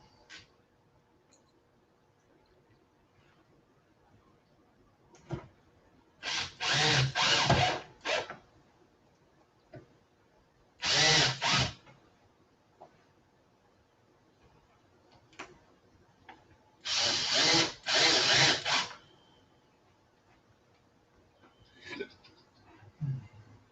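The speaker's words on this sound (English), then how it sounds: "Let's put these screws back in." A power drill drives screws into an arcade cabinet in three bursts of close, high-pitched whirring, each a few seconds long, separated by quiet pauses with faint clicks and handling noises.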